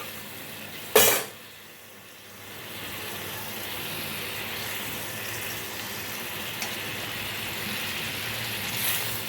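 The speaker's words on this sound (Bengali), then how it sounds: "এরপরে আমি এক এক করে মাছটা ছেড়ে দেবো।" Pieces of katla fish drop into hot oil with a sharp splash and burst of sizzle, followed by a low steady frying hiss that slowly builds and holds, with no talking.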